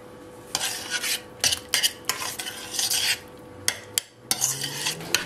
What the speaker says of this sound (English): And we're going to mix that in.